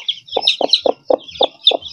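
Five newly hatched Indian Aseel Blue chicks peep in quick, evenly spaced calls close to the microphone, about six short calls in under two seconds over a silent background.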